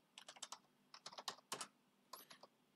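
Keys clatter on a computer keyboard in quick bursts of several strokes with short pauses between them, faint and close, with no voices.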